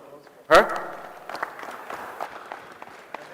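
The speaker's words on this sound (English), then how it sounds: "A round of applause for her." An audience at the IATF2021 Nigeria high-level roadshow breaks into applause after a loud vocal burst, a soft, sustained patter of clapping spreading through the room beneath a voice.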